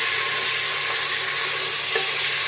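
Mutton sizzles and fries in a pan over a high flame, a steady, loud, dense hiss with faint stirring scrapes, with no voices.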